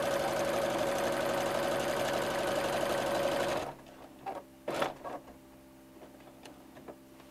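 Sewing machine stitching a dish towel, running in a fast steady whirring rattle for several seconds, then stopping, followed by a few quiet clicks and taps of the machine being adjusted.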